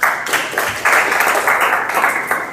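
An audience at a college sports signing event applauding, a dense, continuous patter of many hands clapping at close range, loud and sustained without pause.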